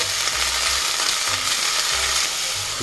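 Vegetables sprinkled with salt sizzle steadily in a hot pan, an even hiss with soft low scraping as they are gently mixed, heard close with no voices.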